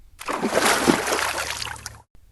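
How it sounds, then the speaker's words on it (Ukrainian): A heavy splash of a bear jumping into a small forest lake, one loud sloshing burst of water lasting about two seconds and then settling. "Без роздумів він стрибнув у воду, заховавшись від бджіл."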